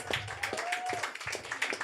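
Audience applause at a stand-up comedy show in Lviv, Ukraine: steady, fairly quiet clapping from many hands with rhythmic claps standing out, and a brief voice near the middle.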